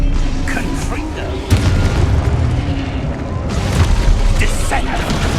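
A Confringo fire spell in Hogwarts Legacy bursts with heavy, rumbling booms that swell and linger in a loud, dense roar, while a voice talks over the blasts.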